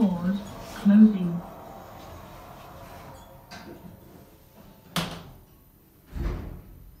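A lift door in a Lincoln Town Centre building sliding closed after a short spoken announcement, ending with a sharp knock and then a dull thump as the doors seal, in an otherwise quiet space.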